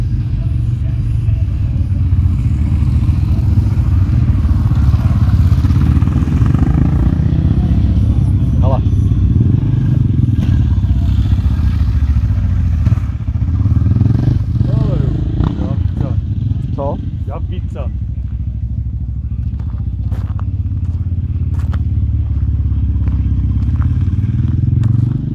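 A small motorcycle engine drones steadily throughout, with low rumbling and occasional clatter and crackle as it rides along on a long-distance road ride in Czechia.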